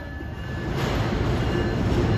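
M9 commuter railcars pull out of West Side Yard in New York with a loud, close, steady rumble that swells as the train rolls past.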